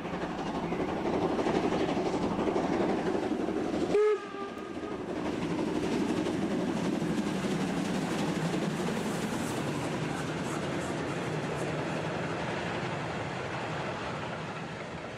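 Steam locomotive 86 1323 runs along an embankment on the Usedom railway near Heringsdorf, giving a steady rolling rumble of wheels and carriages with a brief sharp whistle-like burst partway through, heard without speech.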